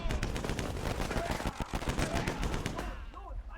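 Rapid bursts of Browning Automatic Rifle fire crackle through a World War One video game battle, loud and dense, with shouted voices mixed in and the shooting thinning toward the end.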